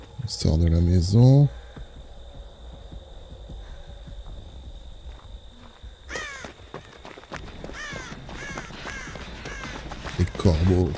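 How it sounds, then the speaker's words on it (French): Crows caw repeatedly in a video game, short harsh calls clustered in the middle section at moderate loudness, with people talking loudly at the start and near the end. "Les corbeaux, purée."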